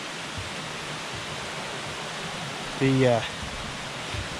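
Water flowing over sandstone rocks outdoors, a steady hissing rush of moderate loudness throughout, with a man briefly starting to speak near the end.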